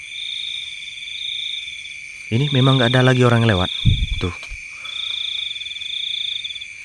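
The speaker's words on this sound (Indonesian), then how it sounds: "Bisa teman-teman dengar suara jangkrik itu di samping kiriku." Crickets chirp steadily in a rural village at night, a continuous high trill that runs nearly throughout, briefly covered while someone speaks nearby in a low voice.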